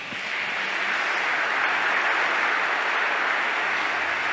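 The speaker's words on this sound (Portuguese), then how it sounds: "A você uma salva de palmas." Sustained applause from an audience at a religious gathering, a steady wash of many hands clapping, evenly loud throughout with no distinct individual claps.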